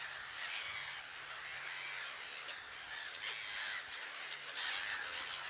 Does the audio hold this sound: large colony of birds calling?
yes